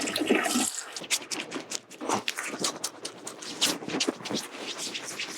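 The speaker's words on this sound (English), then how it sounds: "we're going to wash with a very gentle cleanser" Face washing with a gentle cleanser, giving close, soft scrubbing and rubbing with faint wet patter, a steady run of small irregular strokes and no talk.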